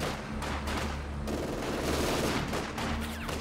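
Gunfire rattles in Company of Heroes 2, a dense fusillade of rifle and machine gun bursts crackling in rapid overlapping volleys, loud and continuous with a battlefield rumble beneath.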